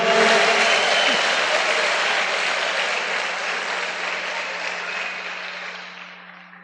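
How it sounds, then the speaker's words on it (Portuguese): A church congregation applauding loudly and steadily, the dense clapping gradually fading toward the end, with a low steady hum underneath. "Pode aplaudir mais forte, que o Senhor merece."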